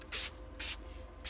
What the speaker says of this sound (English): You kind of spray on the fabric